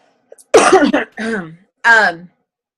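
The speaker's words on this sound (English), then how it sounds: "sorry, I'm still coughing" Three close, loud coughs in quick succession, harsh and throaty, followed by silence.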